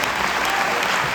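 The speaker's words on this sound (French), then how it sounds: "on peut l'applaudir" An audience at a live film and board-sports festival event applauding, dense steady clapping from a full room throughout, loud and close.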